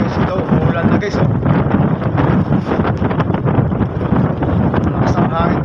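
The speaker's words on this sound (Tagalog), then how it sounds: "Lakas ng hangin sa barko namin." Strong wind on a boat at sea in rain buffets the microphone in a steady, rough roar, with faint voices mixed in beneath it.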